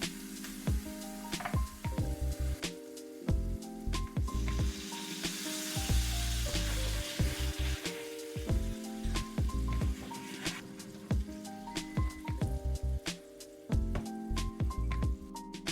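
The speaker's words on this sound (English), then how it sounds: "sauté the cabbage" Cabbage steak sizzling and frying in a pan with butter and soy sauce, a steady loud crackle punctuated by sharp pops and spatters throughout, with no talking.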